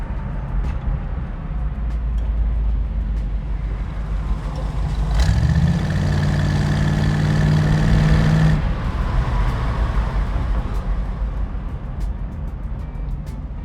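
A 1968 Ford Mustang California Special on the road, a steady engine drone and road noise, with a rising revving tone in the middle that swells, holds, then cuts back to cruising rumble.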